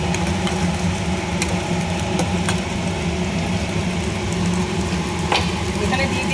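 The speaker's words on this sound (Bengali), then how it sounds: "পেঁয়াজ আর রসুন কুচিটা দিয়ে একটু ভাজা ভাজা করে নেব" Chopped onion and garlic fry in hot oil, a continuous close sizzle and crackle at steady volume with occasional sharper pops and scraping stirs, and no talking.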